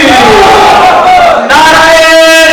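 Large crowd at an Islamic student convention in Mirpur, Azad Kashmir, roaring a slogan response in unison: loud, sustained massed voices with a rising chanted tone, broken by a brief gap before surging again.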